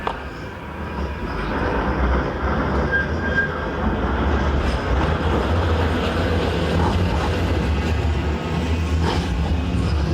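A Manchester Metrolink tram rolls down Piccadilly Place toward the Piccadilly stop, a steady, close rumble of wheels and motor lasting throughout with faint rail squeals and clicks.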